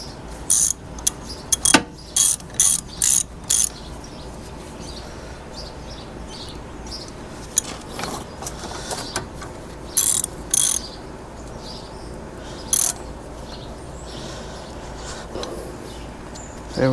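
Ratchet wrench cranking lug nuts onto a 2013 Kia Soul during a front brake rotor and pad replacement: bursts of rapid metallic clicking in quick runs, close up, with pauses and a few scattered clanks between.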